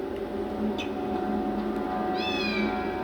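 A cat meows twice in a quick, fairly close room setting, the second call rising and drawn out, over a steady background hum with no talking.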